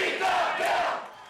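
Crowd of protesters at a town hall meeting, a brief loud burst of massed shouting and jeering voices, dense and close, swelling then fading over about a second.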